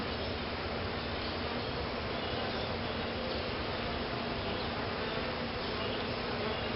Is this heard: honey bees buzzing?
yes